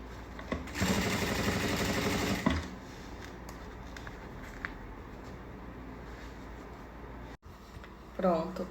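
A sewing machine runs in a steady, fast burst of stitching along a zippered tricoline fabric pouch, close and loud for about two seconds, followed by quieter handling and a brief restart near the end.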